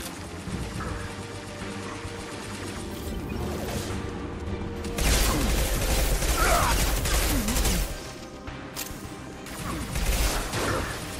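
Heavy weapon shots and crashing impacts sound in a Mass Effect 2 battle, with louder bursts near the middle and the end over constant combat rumble.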